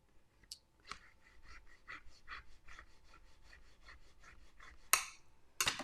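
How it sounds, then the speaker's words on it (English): Bone folder rubbing and burnishing paper for a handmade card, a close, rhythmic series of scraping strokes with a few sharper scuffs near the end. "I took my bone folder and I went inside and gave it a good rub"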